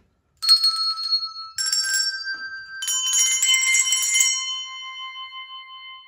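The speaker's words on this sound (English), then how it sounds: "Or you might have some of these little hand bells." Small hand bells ring in a few bright, jingling bursts, then several shake together in a shimmering cluster that lingers and fades.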